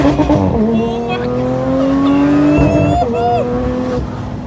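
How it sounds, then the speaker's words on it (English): A Porsche GT3 drives on a track in sport mode, its engine and exhaust rising and falling in steady sustained tones with shifts, loud and close, while people talk over it. "it's got to be one of the best sounding cars out there"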